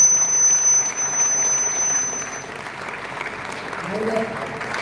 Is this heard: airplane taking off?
no